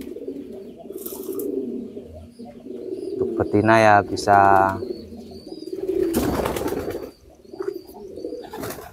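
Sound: pigeons cooing in their loft

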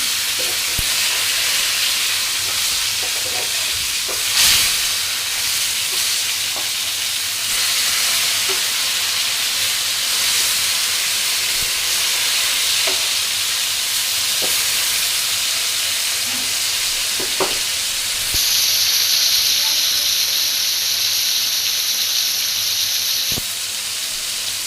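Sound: tilapia fish frying in oil

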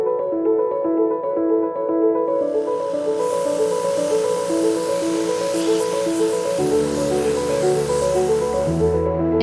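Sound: air compressor powered abrasive spray

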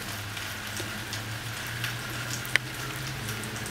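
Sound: rain falling on a puddle

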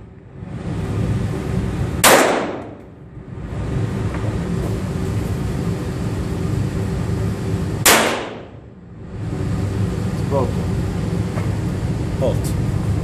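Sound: Walther P22 pistol firing with the shorter barrel

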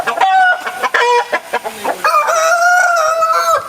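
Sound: chickens and roosters of good breeds clucking

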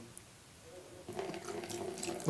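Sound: water being poured into a tank

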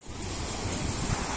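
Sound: sea waves

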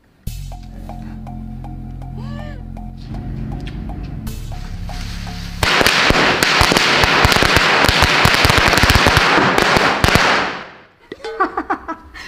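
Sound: firecrackers exploding

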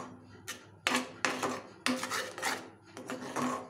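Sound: stirring white chocolate fudge with dry fruits in pan

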